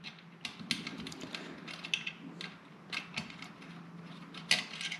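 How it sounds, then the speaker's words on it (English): Chassis screws are backed out of a K&L Golden FX Maverick gun with a small driver. Faint, close ratcheting clicks and light metallic ticks repeat in uneven bursts against a quiet room, with no talking. "First up, we'll remove the 2 screws for the chassis."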